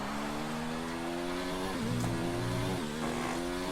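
A Racing Point Formula 1 car in the F1 2019 video game brakes into turn 1, its high engine whine holding steady, then dropping with downshifts before climbing again, loud and continuous with no talking.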